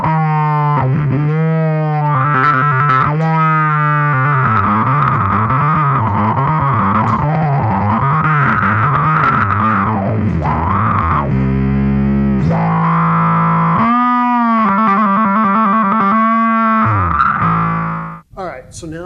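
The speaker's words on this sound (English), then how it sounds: "if you're going to throw distortion on, you should always go ahead and throw a little wah on too" An Epiphone Thunderbird Vintage Pro bass guitar plays a melodic line through heavy distortion and wah, its tone sweeping as the notes bend and slide, loud and continuous.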